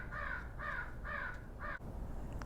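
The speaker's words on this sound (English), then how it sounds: "Got our Halloween birds outside, welcoming in fall." Outdoor crows give four harsh caws in steady succession, moderately distant against a low background hum, with no one speaking.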